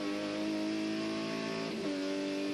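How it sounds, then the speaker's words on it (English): Group A touring cars racing at Amaroo Park in 1986, engines howling loudly under acceleration, with a steady high-pitched drone that shifts in pitch near the end as a gear changes, no talk. "Everyone quite savagely on the brakes here. Accelerate like crazy coming up to the right-hander at Wonderlip Corner."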